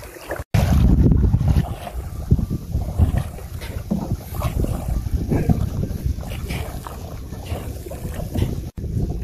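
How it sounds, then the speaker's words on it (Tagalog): A small banca boat moves across a shrimp fishpond at night, its steady rumbling wash and water noise loud and close, with wind buffeting the microphone throughout. "Hindi ako sanay talaga sumakay ng bangka na ganito, klaseng bangka"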